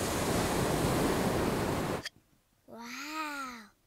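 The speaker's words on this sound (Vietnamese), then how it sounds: "Nếu con đặt vỏ ốc kế bên tai, con sẽ nghe thấy tiếng biển." Cartoon seashell held to the ear, a steady broadband ocean-like rush filling the first half before cutting off, followed by a short rising-falling cat-like meow call.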